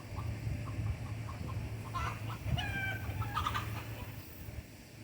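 A gray hen clucks in short, soft bursts close by, over a steady low hum and faint background noise around a truck with its window rolled down.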